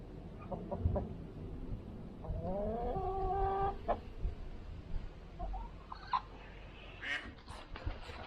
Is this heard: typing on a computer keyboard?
no